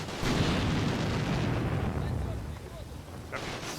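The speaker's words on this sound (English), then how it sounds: "I hear a machine gun. German one, I should say." A German machine gun fires in a World War II combat video game set in Pomerania, 1945, a dense, rumbling burst of sustained fire and explosions that fills the clip before tapering off.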